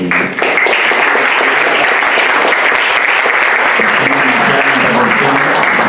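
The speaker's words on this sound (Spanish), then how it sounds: "podemos saludar a los ponentes con un aplauso" An audience at a round-table session of an academic congress applauds the panel speakers, with loud, sustained, even clapping that fills the hall throughout.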